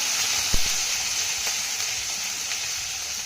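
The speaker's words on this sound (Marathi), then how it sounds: "हा लसूण आणि आलं आपल्याला एक ते दीड मिनिटं चांगलं परतून घ्यायचं आहे" Chopped ginger and garlic sautéing in a hot pan give a steady, close sizzling hiss that runs the whole time, with a couple of faint stirring knocks and no talk.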